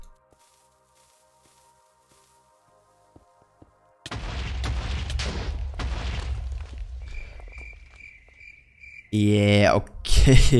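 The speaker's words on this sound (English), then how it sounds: "So I brought some TNT. Now I have 4 TNT, let's see how this will work." TNT blocks detonating in Minecraft, a loud broadband blast rumbling on for several seconds after quiet ambient cave sounds, followed by a second heavy burst near the end, with a brief spoken remark.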